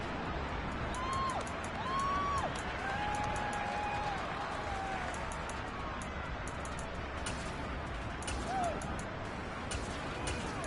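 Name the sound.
home crowd cheering in an American football video game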